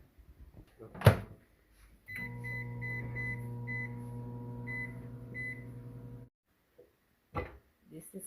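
A microwave oven hums steadily for about four seconds while cooking pecan candy, a low even drone with faint tonal overtones, bracketed by clicks and brief door or button sounds before and after.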